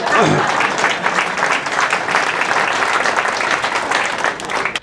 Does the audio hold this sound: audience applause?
yes